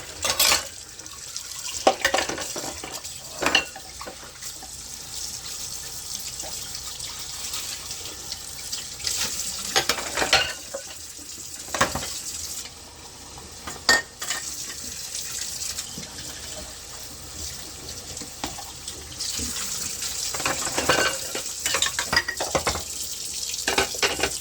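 A kitchen sink tap runs while a tea holder is rinsed under it. The water gushes steadily, with splashing surges and occasional clinks of the item against the sink. No one speaks.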